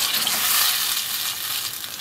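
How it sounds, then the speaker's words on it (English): Pineapple juice poured into a hot pan of pork belly sizzles loudly and steadily up close, a dense, continuous frying hiss with no talking. "Now to this, I'm going to add some pineapple juice."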